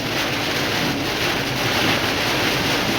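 Heavy rain and road noise inside a car cruising at about 50 on a wet highway, heard as a steady, loud, unbroken wash of hiss and rumble with no voices.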